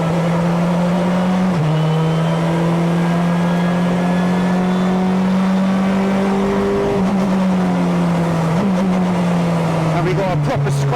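1996 Honda Accord Super Touring race car with a sequential gearbox driving on a soaking wet track, its engine droning loud and steady from onboard with pitch shifts at gear changes, under someone talking.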